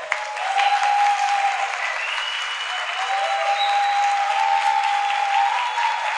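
An audience at a university pedagogy course's inaugural lecture breaks into loud, sustained applause with organized cheering, a dense continuous wash of clapping.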